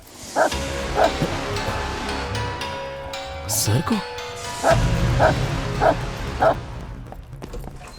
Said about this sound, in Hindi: 4 दिनों से तो सर को भी देखकर भौंकने लगता है।